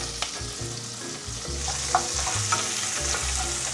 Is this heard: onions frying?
yes